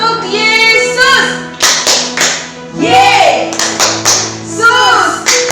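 Children clap out the rhythmic "Tepuk Yesus" clap game at a Sunday school service, several loud, close, sharp claps in patterned bursts mixed with chanting voices.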